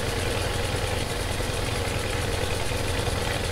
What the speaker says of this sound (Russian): Вообще снаружи двигатель вообще четко работает, настолько классные звуки.